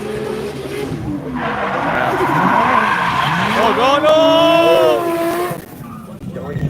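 A Nissan Silvia drift car revs hard and slides sideways around a track's sweeper, engine howling and tires squealing loudly and continuously, with a brief voice exclaiming partway through.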